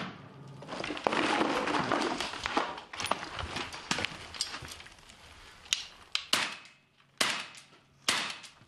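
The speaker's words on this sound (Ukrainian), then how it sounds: "лунає ворожий постріл" Sharp gunshots of enemy fire crack out one after another from a frontline position, several distinct bangs near the end, over a noisy, rumbling background.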